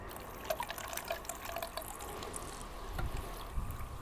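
Water gushing and trickling through a pump-powered pool vacuum hose when switched on, a steady splashy flow with a few soft drips, close and moderately loud.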